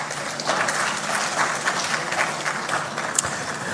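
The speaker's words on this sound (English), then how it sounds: "with a round of applause, welcome our moderator for this session in the person of Kemini Amano from TV3" Audience at a conflict prevention and sustainable peace forum claps to welcome a session moderator, an even, sustained round of many hands at moderate volume, alone with no talking.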